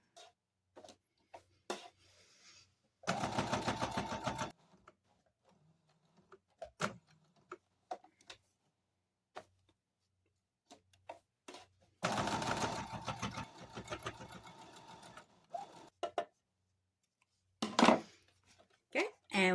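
Sewing machine stitching a quilt block, heard in two loud, rapid runs of stitching a few seconds long, separated by quiet handling clicks and thumps.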